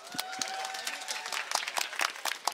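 Sparse applause from a small audience at a book-related talk, individual claps distinct and irregular rather than a dense roar, fairly quiet, with a faint tonal sound early on.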